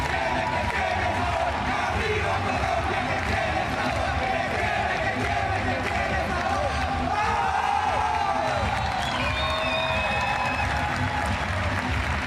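A crowd at a Paris 2024 Paralympic boccia gold medal match cheers and applauds steadily in a large arena, a continuous roar of clapping and voices, with a commentator talking over it.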